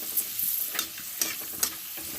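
Round sago papads fry in hot oil in a heated wok, giving a steady close crackling sizzle with a few sharper bubbling pops spaced through it and no talking.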